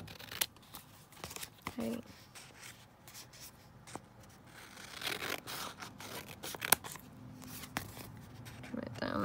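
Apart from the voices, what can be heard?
scissors trimming handmade washi tape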